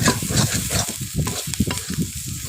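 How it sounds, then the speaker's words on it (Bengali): Ghatkol (taro) fries in a pan while being stirred, with a continuous sizzle under repeated scraping strokes of the spoon in an uneven rhythm, close and fairly loud. "আস্তে আস্তে করে ভেজে নিতে হবে, এভাবে একটু হালকা লাল লাল করে ভেজে নিতে হবে।"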